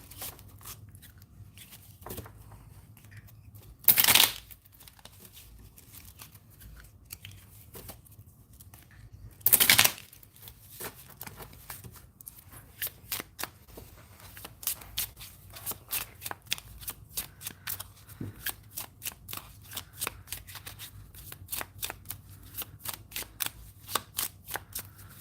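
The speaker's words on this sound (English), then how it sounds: "I'm going to shuffle them all together" A deck of cards is shuffled repeatedly at close range: two loud riffle bursts early on, then a long run of rapid crisp flicks and taps with no talking.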